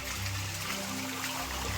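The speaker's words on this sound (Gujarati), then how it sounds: "પાણી આવવાની શરૂઆત થઈ ગઈ છે પગથિયાથી નીચેનો" Water trickles down the stone steps of Girnar mountain, a steady, soft, close wash of flowing water with a low hum underneath, continuous and unbroken.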